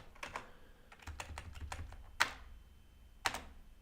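Keys tapping on a computer keyboard, a scattered run of soft clicks with two sharper, louder strokes near the end, quiet and close with no voices.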